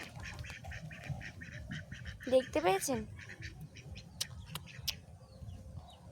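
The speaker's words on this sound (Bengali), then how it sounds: "এই দেখো বন্ধুরা হাঁস," Outdoors, a few ducks let out a short burst of quacking midway, with a person talking and steady background noise around it.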